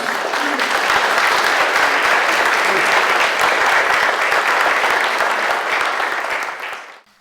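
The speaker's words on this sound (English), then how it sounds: "So let's give Dr. Rather a very warm round of applause." An audience at a lecture bursts into a warm round of applause, dense steady clapping that holds loud for several seconds before fading out at the end.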